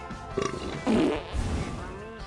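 A cartoon fart sound effect from an animated movie: a loud, wobbling, drawn-out raspy blast with a shorter burst before it and a rumbling tail after, heard alone.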